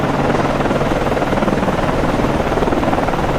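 In the Cold Waters naval game, a helicopter lifts off from an Arleigh Burke-class destroyer, its rotor a loud, close, steady whump-and-roar that pulses evenly throughout with no voices.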